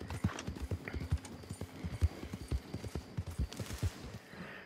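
Horse hooves clip-clop steadily as a bounty wagon is drawn along in the Red Dead Online video game, a fairly close, rhythmic clatter with wheel and harness rattle running beneath and no talk.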